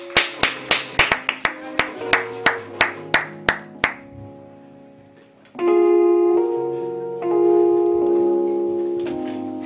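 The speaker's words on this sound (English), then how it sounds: "let us give the young man a big hand clap" Rhythmic congregational clapping at an Easter church praise and worship service, about a dozen sharp, evenly spaced claps over sustained musical tones, then fading as the music carries on alone.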